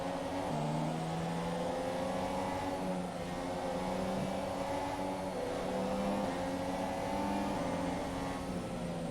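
An F1 car in the F1 2017 video game runs a formation lap, its engine a steady droning whine with shifting harmonics, continuous and close throughout with no speech.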